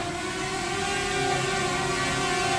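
A DJI Mavic Air drone throttles up indoors in a store, a dense steady buzzing whine of spinning propellers with a faint rising tone and even loudness throughout.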